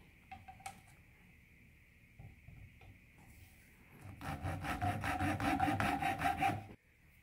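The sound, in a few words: cutting a 5/16 inch wooden dowel rod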